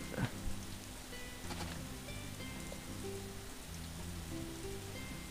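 Steady rain patters across the farm in the video game Harvest Moon: A Wonderful Life, a soft continuous hiss of drops over the game's gentle background music, with no talking.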